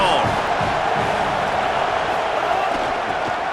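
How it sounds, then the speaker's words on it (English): Steady stadium crowd roar from EA Sports College Football 27, a sustained wall of cheering fans behind the defense in a red zone stand, loud and continuous throughout. "The crowd getting behind this defense as they try to get a stop in the red zone."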